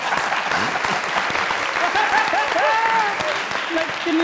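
Loud, sustained audience applause fills a live comedy show stage, dense and even throughout, with scattered voices and whistles rising above the clapping crowd.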